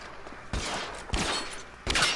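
Gunfire in the crime-era video game L.A. Noire, three bursts of shots at roughly even intervals, moderately loud and alone with no talk.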